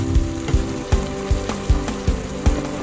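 Beef cooks in a pan with a busy close sizzle, broken by a regular series of dull knocks or thumps about every half second. No one speaks.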